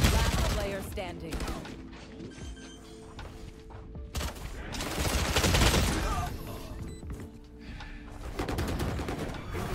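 Judge shotgun fire and other gunfire in the video game Valorant, with repeated loud blasts and rapid bursts throughout a busy match.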